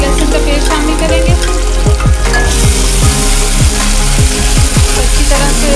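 Light-brown onions fry in a pan for kadhi pakora as ginger-garlic paste goes in, giving a loud, dense, steady sizzle. A spatula scrapes and stirs through it at a regular, rhythmic pace.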